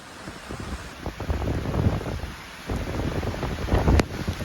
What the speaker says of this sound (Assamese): মজা বতাহ এটা মাৰি আছে বৰষুণৰ লগতে